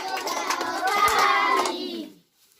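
Children clap their hands in a quick run of sharp claps during a Hindi alphabet rhyme, mixed with voices and tune, then everything drops to near silence.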